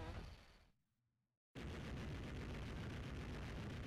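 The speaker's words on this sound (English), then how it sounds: "the base blows up and goes boom" A base exploding in the retro game Contra Hard Corps: a loud blast rumbles and fades almost to silence, then a second massive, sustained explosion roars in abruptly and continues at full volume.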